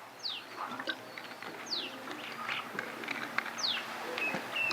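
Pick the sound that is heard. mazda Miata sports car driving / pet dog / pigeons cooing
pigeons cooing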